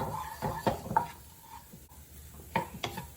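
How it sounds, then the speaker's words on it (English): Chopped onion sizzles softly in a pan while a utensil stirs and scrapes it in a few quick, close strokes, with no talking. "add my chopped onion into the pan and cook it until the chopped onions are wilted."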